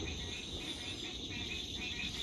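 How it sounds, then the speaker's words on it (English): A dense, steady chorus of frogs trilling and croaking continuously, loud and close, with no talking. "And you got the frogs."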